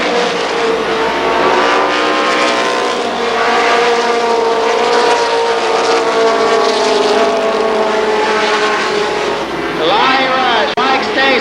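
Modified race cars thunder around Columbus Motor Speedway in a sustained, loud roar of multiple engines, pitch rising and falling as cars pass, with an announcer talking over the field and a sharp doppler sweep of a car going by near the end.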